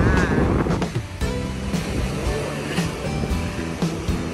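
Ocean waves wash onto the sand at Playa San Juan beach in Alicante, a broad rolling surf heard up close with wind buffeting the microphone throughout.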